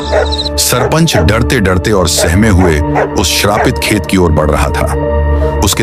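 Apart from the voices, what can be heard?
village dogs barking continuously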